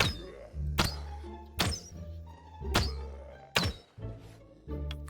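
Crossbow shots in the survival shooter Infestation Survivor Stories: five sharp, solid thunks spaced about a second apart, each followed by a short low rumble, with no talk.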